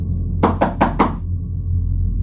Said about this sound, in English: when a knock came at my window.